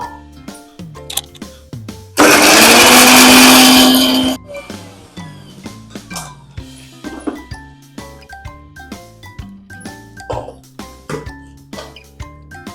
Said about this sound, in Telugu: అలానే వీటిని శుభ్రంగా కడిగి మిక్సీ పట్టుకుందాము